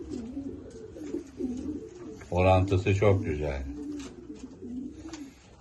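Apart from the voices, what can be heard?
pigeon cooing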